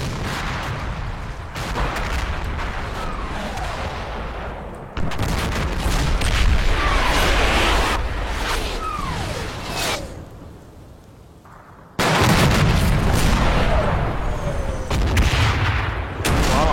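Rifle shots ring out in a video game battle among dense layered combat noise: sharp cracks and booms over a constant rumble that drops briefly, then returns full and loud.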